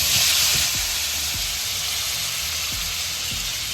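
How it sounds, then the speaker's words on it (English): Tomatoes and vegetables sizzle steadily in melted butter in a pan, a bright continuous frying hiss with a few soft low clicks and knocks underneath, close and fairly loud, no voices. "Add our tomatoes right in that butter. I was going to saute them down"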